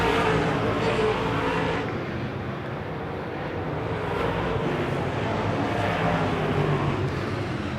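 Wissota modified race cars roar around a track on the final lap of a feature race, a continuous dense engine drone with a commentator talking over it.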